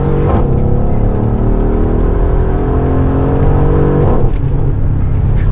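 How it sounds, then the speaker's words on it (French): A Mercedes-AMG GLE 63 S V8 revs loudly up through the range, with lift-off crackle when the throttle closes around the middle and again near the end, close and continuous with no talk. "En fait, la rupture des gaz me tétanise."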